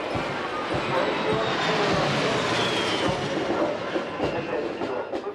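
Military aircraft and helicopters fly over a parade of troops and armoured vehicles in central Sofia, a loud, continuous broadband roar that swells and fades slightly, with faint crowd voices underneath.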